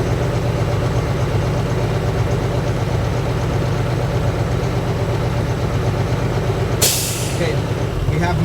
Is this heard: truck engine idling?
yes